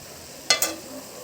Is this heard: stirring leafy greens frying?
yes